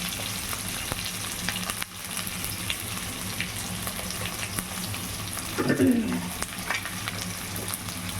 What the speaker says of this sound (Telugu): ఆనియన్, కరిపత్తను జతలో పేర్చుకున్నాం. సో ఇదంతా ఫ్రై అవ్వాలి.